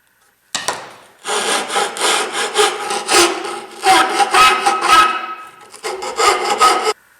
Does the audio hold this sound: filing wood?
yes